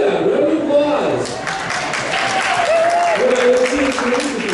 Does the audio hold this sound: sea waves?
no